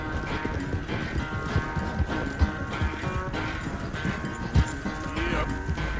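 Horse hooves clop in a steady trotting rhythm in Red Dead Redemption 2, close and continuous for about six seconds, with game ambience underneath.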